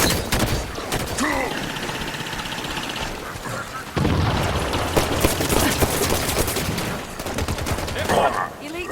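Turret gunfire in Halo 5 comes as rapid, sustained automatic bursts across the battle, with brief gaps and some background combat chatter.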